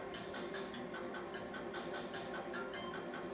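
A Commodore 1084S CRT monitor, powered from an Amiga 2000, gives off a steady, continuous high-pitched whine that holds unchanged throughout with no talking.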